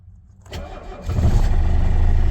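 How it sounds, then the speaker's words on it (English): A Mercedes W123 diesel engine cranks briefly and catches on the first try, settling into a loud, steady, close diesel idle. "So first time it actually cranked. It started right up first try"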